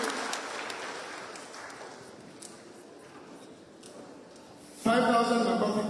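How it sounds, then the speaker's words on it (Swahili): A Sunday school congregation at an ACK church in Thika applauds a donation. The clapping is loud at first and fades away, and then a voice starts speaking at the end. "Makofi kwake."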